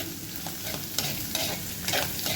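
Pirandai (adamant creeper) is sautéed in a pan for chutney, producing a continuous sizzle with repeated scraping stirs of the spatula close by.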